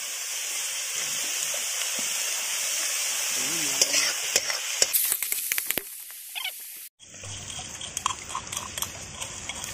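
Onions and chili fried in a pan for a village-style Rikwach recipe, a steady close sizzle with bursts of stirring and scraping, a brief drop to quiet, then the sizzle resumes.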